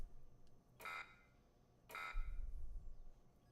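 Two short electronic beeps sound about a second apart, faint and clipped against low background noise, the second followed by a soft rumble.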